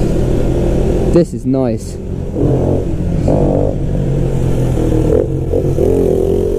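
A stock-exhaust 2017 KTM Duke 125 motorcycle engine hums steadily at close range, with brief rises in revs, while a rider talks over it throughout.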